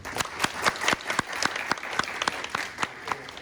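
A seminar audience applauds a guest speaker at the close of a talk, with sharp individual claps standing out in a steady patter from a modest crowd for a few seconds.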